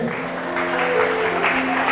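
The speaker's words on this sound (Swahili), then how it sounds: "Patia Yesu makofi na vigelegele." A church congregation clapping steadily for Jesus while high, sustained ululating cries ring over the dense applause, loud and close throughout.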